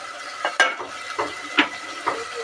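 Mutton with cardamom and cloves is stirred and fried in a pan, with about five distinct scraping spatula strokes at a steady rhythm over a faint, low sizzle, close by and with no talking.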